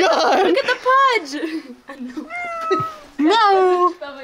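A fat, heavy-bellied cat meows several times up close, drawn-out and wavering, while people laugh and talk over it.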